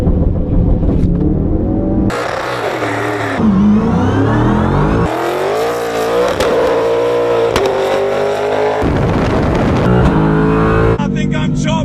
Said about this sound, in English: I'm redlining every gear. That's 180 kilometers an hour.